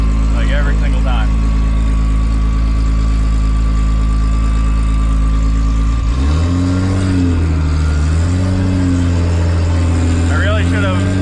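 A 1500 horsepower street car's engine idles loud and steady, a heavy low rumble that shifts in pitch partway through, with speech heard over it near the start and end.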